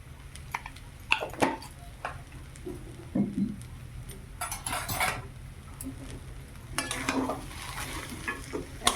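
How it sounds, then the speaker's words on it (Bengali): Vegetable chop filling stirred and mixed in a pan with ghee, the spatula scraping and clinking repeatedly over a soft sizzle, with several louder scrapes at an irregular pace. "প্রায় হয়ে এসছে, ভালো করে মিশিয়ে দিয়ে নামিয়ে নেব।"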